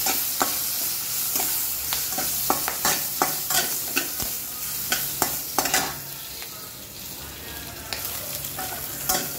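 Urad dal and curry leaves fry in a pan with a bright, crackling sizzle while a spoon scrapes and clicks repeatedly against the metal, close and prominent with no talking.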